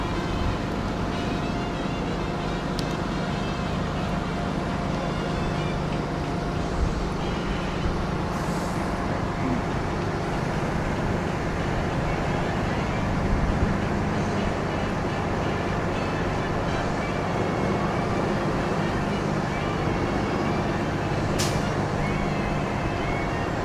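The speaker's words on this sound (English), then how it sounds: "Lots of buses rolling in," Buses roll in at Disney's Hollywood Studios with a continuous low engine and road rumble, traffic noise holding steady throughout, brief faint clanks and distant voices mixed in.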